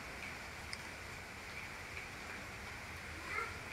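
Steady rain falls over a Shamo chicken farm during the rainy season, a constant close wash of patter with a few sharper drops near the end and no talk.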